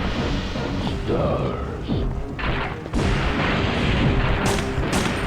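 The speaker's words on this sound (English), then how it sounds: "So we're going to get him to use all of his rockets here." Rocket explosions boom through a Resident Evil 3 video game battle, with loud, dense blasts and crashing rumble that run almost continuously and surge again partway through.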